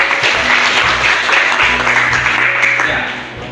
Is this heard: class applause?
yes